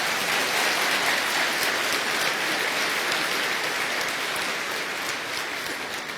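A class or group audience applauds, a dense, steady wash of many hands clapping that holds at a fairly loud level throughout, with no talk over it.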